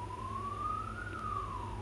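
An emergency siren rises and falls in a single slow wail, sounding fairly distant and steady over a low background rumble.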